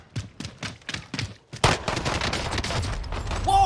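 Pistol gunfire in the Call of Duty Warzone video game: a rapid run of about six sharp, evenly spaced shots, followed by a denser burst of overlapping gunfire and battle noise.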